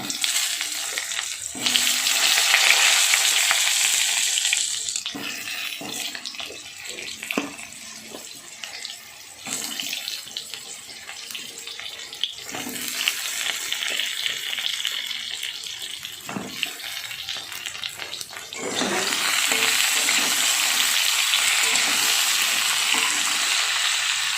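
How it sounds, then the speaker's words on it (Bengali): Eggplant pieces frying in oil previously used for frying fish, a loud continuous crackling sizzle that dips and swells as the pieces are turned, with occasional clinks and no voices. "ওই মাছ ভাজার তেলেই আমি বেগুনগুলোকে একটু ভাজা ভাজা করে নিচ্ছি"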